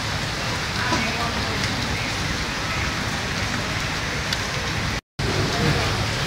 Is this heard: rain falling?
yes